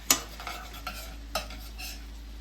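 A spoon stirs sauce in a pan over a light sizzle. A sharp clink comes first, then a few softer taps and scrapes, all close and fairly quiet, with no voices.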